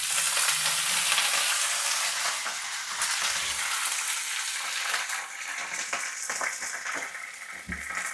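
Curry leaves and green chillies hit hot oil in a pan, giving a loud, dense crackling sizzle that gradually settles, with occasional stirring clatter and no talking.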